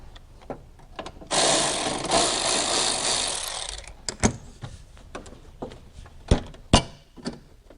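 A ratchet turns a 14mm socket on a swivel during transmission removal on a Honda S2000. A dense two-and-a-half-second burst of ratcheting comes first, then scattered sharp metallic knocks and clicks.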